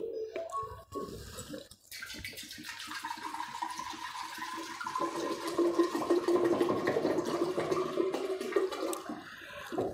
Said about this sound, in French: Je viens avec un pot dans lequel je mets de l'eau.